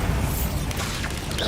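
A Bombarda blast spell going off in the Hogwarts Legacy video game, a deep booming burst amid busy game combat noise, swelling louder at the very end.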